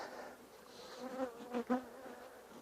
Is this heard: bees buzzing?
yes